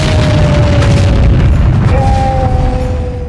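A burning gasoline-filled tank explodes in a loud, sustained boom with a roaring, rumbling body that fills the whole stretch and eases off slightly at the end, close and alone without talk.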